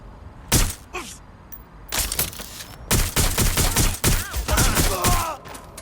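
Loud, rapid bursts of gunfire from a Watch Dogs: Legion firefight, separated by short gaps and then settling into sustained volleys with crackling impacts near the end.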